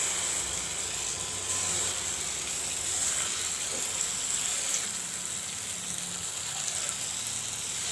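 Bonda batter made from idli batter sizzles and hisses steadily in hot oil, a continuous crackling fry heard up close with no voices.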